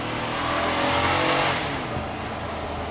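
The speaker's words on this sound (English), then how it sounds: "Yeah, it's a V8 for sure, and it does sound really good" A 2021 Nissan Patrol Y62 with a V8 engine accelerates in manual mode, giving a loud, sustained engine roar that swells and then holds steady, heard close up with no talking.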